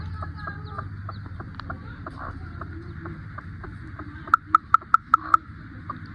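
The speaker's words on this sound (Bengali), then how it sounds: "আমি যে এই মুরগিটা দেখার জন্য আসছি" Chickens cluck softly nearby amid low background noise, followed by a quick run of about six sharp, evenly spaced clucks.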